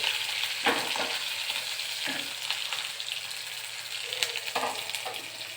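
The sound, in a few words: nigella seeds and slit green chilies added to a pan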